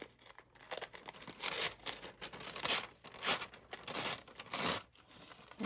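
Paper for a junk journal is torn in a series of rough, crinkling rips, several bursts in a row, close and fairly quiet.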